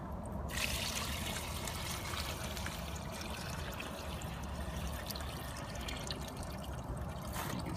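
Water poured off a container while rinsing crystal reef aquarium sand, a steady close trickling and splashing stream running continuously without pause.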